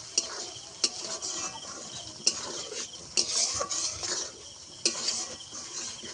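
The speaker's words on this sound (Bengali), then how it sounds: "টক দইটা মেশানোর সময় অল্প একটু জ্বালানিটা কমিয়ে দিয়ে অনবরত নাড়তে হবে।" A spoon keeps stirring yogurt, spices and potatoes in a pan over low heat for a paneer dish, with repeated scraping clinks over a faint, continuous sizzle.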